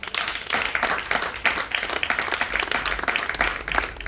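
Church congregation applauding and clapping together in praise, a steady dense wash of hands filling the room for about four seconds with no speech over it.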